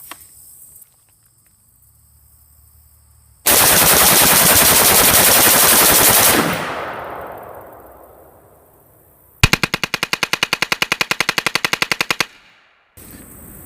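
An AR-15 fitted with a Superlative Arms gas piston system and a standard 3.8-ounce H buffer fires M193 ball outdoors. One long, loud sustained burst fades into a ringing tail, then a second rapid string of sharp, evenly spaced shots follows.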